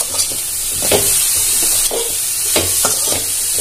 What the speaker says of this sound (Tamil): இன்னும் ஒரு நிமிஷம் இப்படியே கொஞ்சம் வதங்கட்டும்.